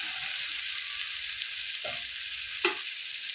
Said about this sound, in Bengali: আলু আর ফুলকপি ভাজাটা দিয়ে দিচ্ছি